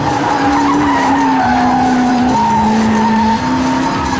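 A Koenigsegg CC8S runs in understeer, tyres squealing in a loud, sustained skid over a droning engine note that steps in pitch as it shifts, close and continuous.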